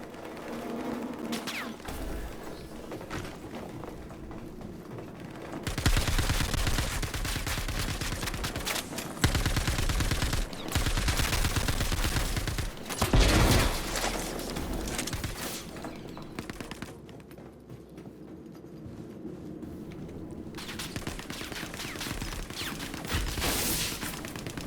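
Rifle gunfire in the Star Citizen game's Star Marine mode, long rapid bursts of shots with pauses between, loud and close over a steady ambient hum, no talking.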